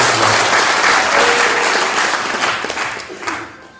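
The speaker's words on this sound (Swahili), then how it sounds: "Tupigie wazazi wetu makofi." Audience at a Saba Saba political party gathering in Murang'a applauding loudly, thick close clapping that runs for a few seconds before easing off at the end.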